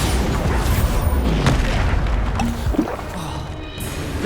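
A Bombarda spell blast in Hogwarts Legacy combat lands as a dull boom with a crashing impact, set amid continuous spell effects and fight noise that stay loud throughout.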